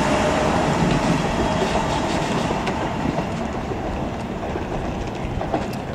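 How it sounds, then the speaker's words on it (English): A London Underground District Line train bound for Upminster rolls into Barking station, a loud, close rumble of wheels on rail with light clicks and faint squeals as it slows, without speech. "Whilst also arrived is a District Line train to Upminster."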